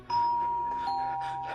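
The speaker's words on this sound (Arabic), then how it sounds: "ده جرس الباب بيضرب." A doorbell in an Egyptian Arabic radio drama gives a single clear, close electronic chime that rings out and slowly fades, with no voices over it.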